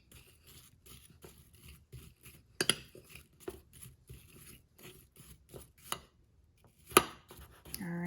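Silverware spoon stirring apple slices in a small bowl, with irregular soft scrapes and clinks plus a couple of sharper taps against the bowl, close and without talk.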